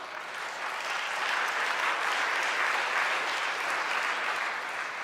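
An audience at a Congressional Gold Medal ceremony for Chinese American World War II veterans in Southern California claps, a dense, sustained wave of applause that holds steady for several seconds, with no speech over it.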